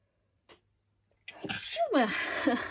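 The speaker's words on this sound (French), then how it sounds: "Attention, je vais éternuer." A faint click comes first, then a single loud, close sneeze with a sharp intake of breath and a voiced burst.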